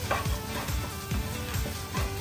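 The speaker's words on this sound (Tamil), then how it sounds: "இப்போ அந்த வெங்காயம் நல்லா வதங்க ஆரம்பிக்கும்" Onions sautéing with egg in a hot pan for chicken kebab noodles, a close, steady sizzle with rhythmic stirring scrapes from a utensil, no voices.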